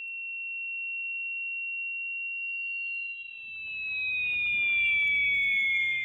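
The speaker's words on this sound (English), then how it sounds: "You hear this high-pitched sound, which is basically your ears shutting down for a while." A high-pitched ringing tone of the ears after a loud explosion: a steady pure whine that holds alone, then bends slightly lower and gains shimmering overtones as a low, muffled rumble rises beneath it.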